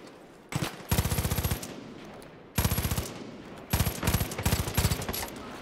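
Automatic weapon fire in the shooter game Far Cry 5, three rapid bursts of rattling shots separated by short gaps, loud and close with no talking.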